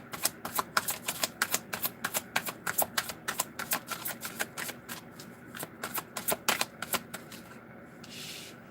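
Tarot cards shuffled up close in a rapid series of crisp riffling bursts, fast and rhythmic, fading to a soft rustle at the end.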